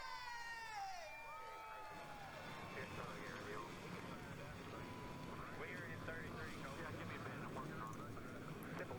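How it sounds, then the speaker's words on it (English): Many NASCAR Racing 2003 stock cars fire up together at Auto Club Speedway in Fontana. A loud, continuous engine roar fills the clip, with revving pitch sweeps near the start. "start your engine!"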